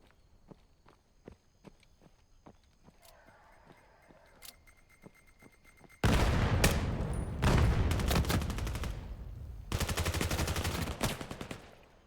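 Gunfire in a tactical shooter game during a 5v5 competitive league match: after faint footsteps and ticks, dense bursts of rapid shots break out loudly, pause briefly, then resume in another heavy volley.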